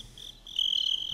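Crickets chirp at night, a steady high trilling that swells louder halfway through, close and alone with no talk.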